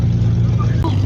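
A Nissan GT-R R35 sports car roars during a race in Kuwait, producing a loud, steady low engine drone that fills a brief moment up close.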